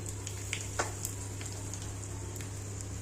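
Cumin, mustard seeds, dried red chillies, chana dal and urad dal fry in hot oil as a tempering, a steady soft sizzle with occasional faint pops and crackles.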